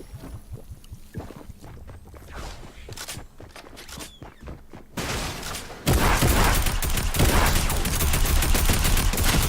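A new rifle fired in the video game Fortnite crackles in rapid bursts of repeated shots, sporadic at first and then a dense, loud barrage in the final seconds.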